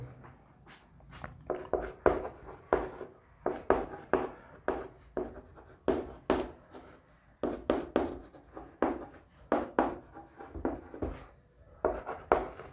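Writing on a board during a vector lesson, rhythmic scratching strokes in short bursts with brief pauses between, close and clear with no talking over it.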